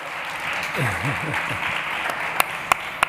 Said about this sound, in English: now we're going to give a big round of applause to our Business Development Director, Southern Europe at OVH Cloud